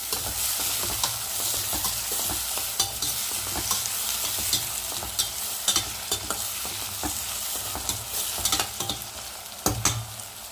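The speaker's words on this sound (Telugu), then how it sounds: "త్వర త్వరగా కర్రీ తాలింపేద్దాం ఉల్లిపాయ పచ్చిమిర్చి బాగా ఫ్రై వరకు అయితే ఫ్రై చేసుకున్నాం" Onion and green chili fry for a curry tempering, a steady sizzle of oil broken by repeated scrapes and stirs of a spoon against the pan, close and fairly loud throughout.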